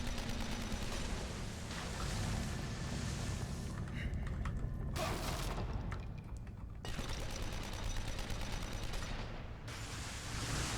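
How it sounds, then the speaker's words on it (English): Harpoon bolt trap in The Evil Within firing a dense, steady volley of mechanical shots, loud and continuous throughout with brief lulls, set against a constant low game rumble and no talk. "Why have a giant firing line of harpoon bolts?"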